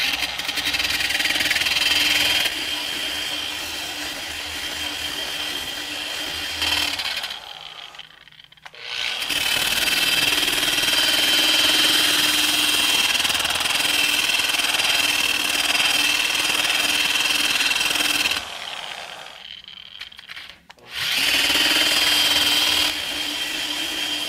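Metabo SE 17-200 RT burnishing machine polishing steel, a loud steady motor whine with abrasive grinding that runs continuously, cutting out briefly twice before spinning back up.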